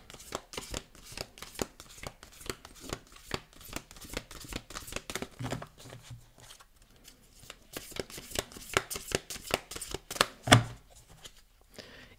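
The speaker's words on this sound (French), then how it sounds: "Je mélange bien les cartes." A deck of oracle cards being shuffled by hand, close and crisp: rapid riffling flutters in repeated bursts with short pauses between, ending in a sharper slap of cards.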